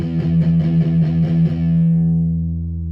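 Palm-muted electric guitar through distortion, a series of rapid chugging muted notes followed by one sustained, ringing distorted note that slowly decays, loud and close.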